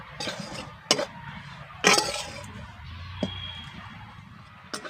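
Rice flour dry-roasting in a pan, with a utensil scraping and clinking against the metal in a few sharp knocks amid soft, quiet stirring.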